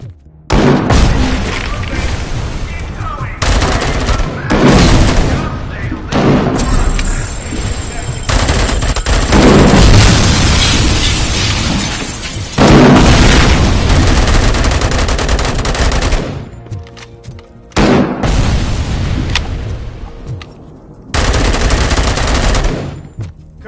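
Heavy cannon fire and explosions in the RoboCop: Rogue City game on PS5, loud continuous bursts of rapid gunfire and booming blasts filling long stretches with brief gaps, with voices talking among them.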